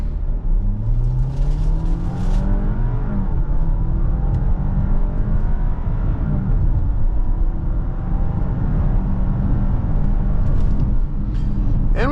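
A 2025 Audi Q7 45 TFSI pulls away from idle under hard acceleration, its engine note rising steadily and shifting through gears, loud and continuous from the cabin with road and wind noise building for about twelve seconds.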